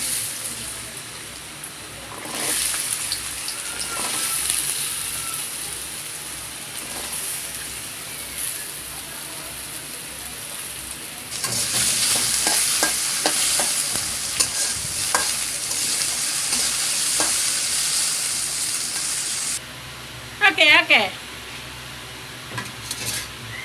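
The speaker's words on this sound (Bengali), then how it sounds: "তেল গরম হয়ে আসছে, এবার দিয়ে দিব কেটে রাখা আলুগুলো।" Cut potatoes dropped into hot oil in a wok, a quiet sizzle swelling into a louder steady fry with stirring, then a brief clatter of utensils near the end.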